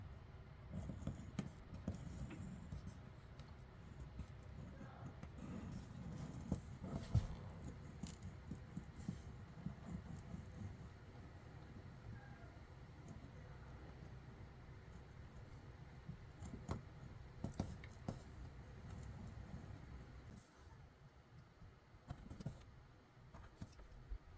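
English Tan Derby leather being cut with scissors at a workbench, a steady run of soft crunching snips and rustles with small taps, close and fairly quiet, no talking.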